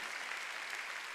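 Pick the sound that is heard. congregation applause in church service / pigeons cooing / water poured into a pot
congregation applause in church service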